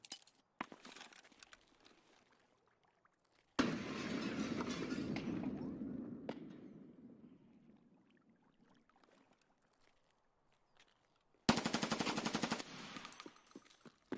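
Gunfire echoes at the Shoreline pier in Escape from Tarkov, with sharp distant bursts at the start, middle and end, long rumbling echoes trailing after each volley, and quiet stretches between them.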